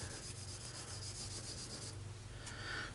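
Fine 2000-grit sandpaper rubs steadily across aluminum in a continuous, close, even scratching with no pauses and no voices.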